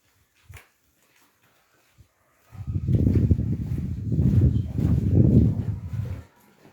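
A dog at a neglected house lets out a low, rough, sustained growling whine for a few seconds after a near-silent stretch with faint thumps, close and fairly loud.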